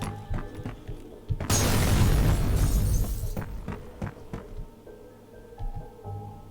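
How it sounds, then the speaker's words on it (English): Proximity grenade detonating in the shooter game F.E.A.R., a loud booming blast with shattering debris lasting about two seconds, surrounded by clattering gunfire-like game effects and thumps. "we'll just pick up the proximity grenade again. Grenade out!"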